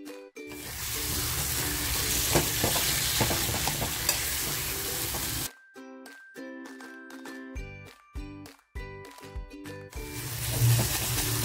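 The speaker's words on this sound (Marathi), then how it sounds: "आता जे मी वांग घेतलंय ते वांग टाकणार आहे." Eggplant being stir-fried in a pan for a dry-fish stuffed eggplant dish, with steady loud sizzling and the scrape of a spoon stirring, broken midway by a few seconds of quieter clinks and taps before the sizzle returns.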